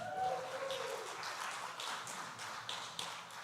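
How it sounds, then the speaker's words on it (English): Applause from an audience at a church dessert auction in Portland, Texas, heard as a steady wash of many clapping hands. It stays fairly soft and even throughout, with a few sharper claps standing out. "Let's give Betty Crocker a big round of applause."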